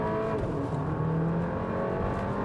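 A Porsche Macan with a 4-cylinder 252 hp engine accelerating hard under launch control, the engine note rising steadily from inside the cabin with no talk over it.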